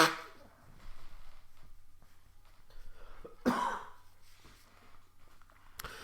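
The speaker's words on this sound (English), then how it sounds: "Let me blow my nose one time." A person blowing their nose, heard as one loud close burst of breathy noise in the middle amid faint room sounds and a few small rustles, with no speech.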